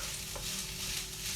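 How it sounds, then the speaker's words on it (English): Food being stirred in a frying pan during home cooking, a steady close sizzle and scrape running throughout with no talk over it. "Oh, I should probably stir this."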